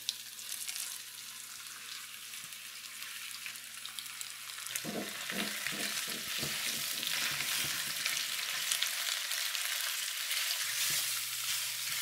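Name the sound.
pork belly frying in hot oil in pan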